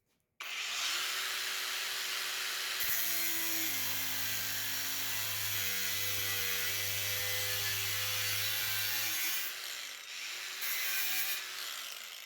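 A cordless brushless angle grinder at maximum speed cuts through a stainless steel screw, spinning up to a loud high whine that shifts in pitch as the disc bites, then eases and briefly surges again.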